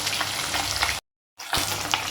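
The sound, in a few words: fish frying in oil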